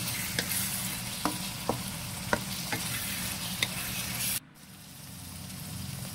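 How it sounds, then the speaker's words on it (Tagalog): Chicken pastel mixture cooking in a frying pan, a steady soft sizzle with several sharp spoon taps and scrapes as it is stirred, cutting off abruptly into near silence. "Ayan, haluin natin."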